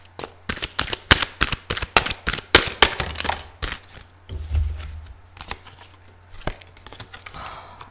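Tarot cards being shuffled and drawn, a rapid run of crisp riffling flicks and slaps close up, then slower scattered card snaps and a soft sliding draw.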